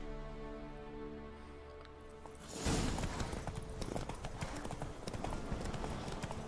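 A horse gallops during a race in The Witcher 3. After a quiet opening, rapid rhythmic hoofbeats start abruptly and continue loud and close until the end.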